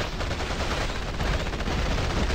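Gunfire in the video game Battlefield Heroes, a loud, continuous rattle of rapid shots packed tightly together with no break, heard alone without speech.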